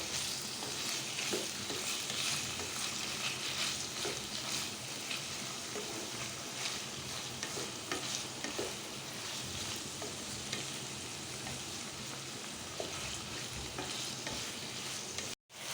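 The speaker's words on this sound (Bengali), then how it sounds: "এভাবে আমি 3 মিনিট ভাজবো" Whole spices, two small cardamom pods and two bay leaves, fry in oil in a pan, giving a continuous dense sizzle with faint stirring scrapes that runs steadily until a sudden cut near the end.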